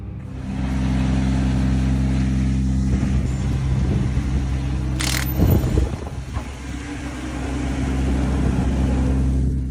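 A drift car engine holds a steady, loud idle drone, then revs sharply in a brief burst near the middle with a hissy rush before settling back into the low continuous rumble.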